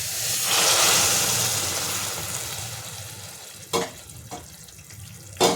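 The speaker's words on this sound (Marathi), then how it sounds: "आता ह्याच्यामध्ये मी पाणी गरम करून घेतलेलं आहे ते टाकून घेते" Loud, steady sizzling hiss as hot water is poured into frying vegetables for soup, slowly fading, followed by a few sharp clinks of utensils against the pan.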